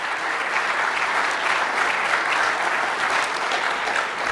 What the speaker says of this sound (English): It's just good to get some applause anyway